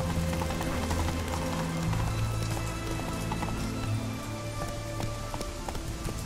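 Roach, the horse in the video game The Witcher 3, gallops in a rapid clip-clop of hooves beneath dense game music and ambient noise, loud and continuous throughout.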